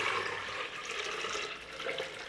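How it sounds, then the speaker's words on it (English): Water is poured into a blender for a mung bean egg substitute, a steady, hissing splash close by that lasts the whole moment without pause or talk. "We're going to put our water in."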